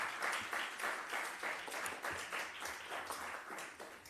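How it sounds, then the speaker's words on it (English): A faint round of applause rises for the presenters at a national health research conference, with quick soft claps pulsing at an even pace through the whole stretch, heard from a distance. "For presenters, a round of applause."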